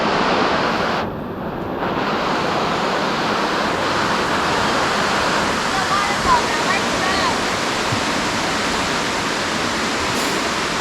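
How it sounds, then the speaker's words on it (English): Pigpen Falls pours in a continuous, loud, broadband rush of falling water heard up close, with a brief dip near the start and faint voices buried under the roar. "See the water fall, now let's go."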